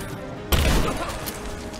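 A sudden burst of gunfire in the video game Rise of the Tomb Raider erupts and rumbles on, loud and dense, against a steady noisy background.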